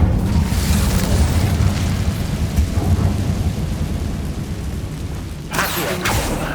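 Incendio fire spell cast in the Hogwarts Legacy video game, a loud, sustained roaring rumble like a storm that runs the whole time, with a sharper burst near the end.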